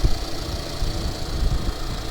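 A car engine idles up close with a steady low rumble and a slight uneven wobble in its rhythm.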